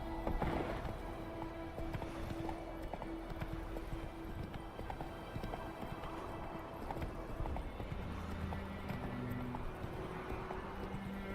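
Roach the horse trots in The Witcher 3, a steady clip-clop of hooves under a continuous game soundscape with a low music drone, moderately loud, with no speech.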